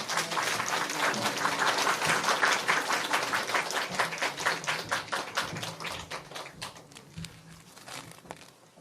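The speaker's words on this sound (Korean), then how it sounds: "박수로 우리 환영하도록 하겠습니다" A church congregation claps steadily to welcome a visiting missionary to Vietnam, a dense, even patter of many hands that thins and fades toward the end.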